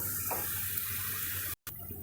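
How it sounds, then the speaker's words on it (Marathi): Water pours into a pan of Malvani mackerel curry as a short, steady watery rush close by, briefly cut by a moment of silence near the end. "आता आपण त्याच्यामध्ये थोडं पाणी ॲड करू"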